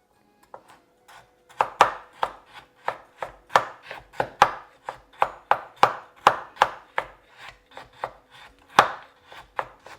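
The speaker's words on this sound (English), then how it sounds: "So what I'm going to do is just chop it up into small pieces." A knife chops frozen coconut into small pieces on a cutting board, sharp close thuds in an irregular rapid series of about two dozen strikes, with no talk.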